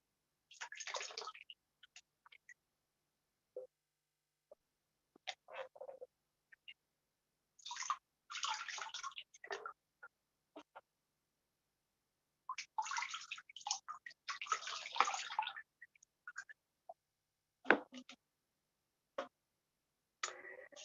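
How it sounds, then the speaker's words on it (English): Bare feet being rinsed with fresh water in a basin during a foot soak, with intermittent quiet splashes and trickles separated by silent pauses. "Now we can rinse our feet"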